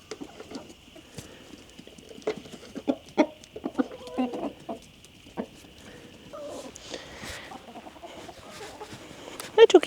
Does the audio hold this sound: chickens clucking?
yes